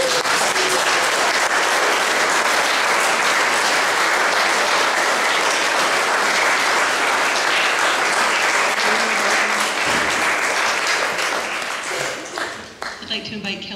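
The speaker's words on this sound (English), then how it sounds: "You can cheer." Wedding guests break into loud, sustained applause and cheering right after the couple is pronounced husband and wife, the clapping thinning out near the end.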